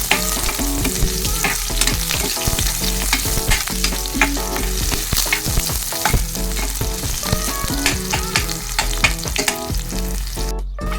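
Continuous crackling and sizzling of garlic and onion frying in a hot pan, with frequent stirring scrapes and clinks, close and busy throughout.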